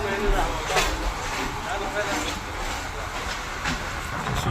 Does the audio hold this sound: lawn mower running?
no